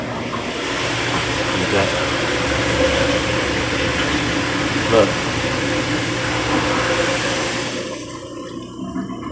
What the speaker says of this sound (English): when I cut this disposer on, it's gonna give all the friction we need to tell if this thing's gonna leak or not